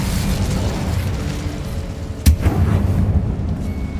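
The Incendio fire spell cast in Hogwarts Legacy, a single sharp burst midway through over a continuous rumbling roar that stays loud from start to finish.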